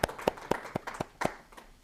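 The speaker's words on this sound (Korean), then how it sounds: "오늘 강의해 주신 우리 신재술 강사님께 다시 한번 큰 박수 부탁드리겠습니다" Sparse, scattered hand claps from a small lecture audience after a Korean talk on MCP, a handful of distinct claps spaced irregularly rather than a full ovation, fairly faint.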